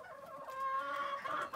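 Chickens kept on the ground beneath rabbit hutches cluck in a continuous, close, tonal run, the calls rising and holding steady with little else around them.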